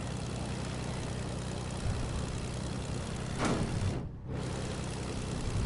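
A propeller plane in Fortnite drones with a steady, loud engine hum that holds throughout, with a brief swell and a passing whoosh partway through.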